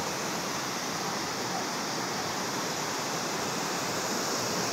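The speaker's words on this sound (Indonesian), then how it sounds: "Dan celah ini adalah curugnya, dilihat dari atas." Waterfall on the Cikapundung River in Bandung, viewed from above: a steady, dense roar of rushing water, broad and continuous throughout, with no pauses or voices.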